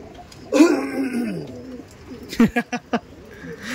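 Madras pigeons coo close by: one drawn-out throaty coo, then a short burst of rapid pulsed cooing notes, with faint background noise.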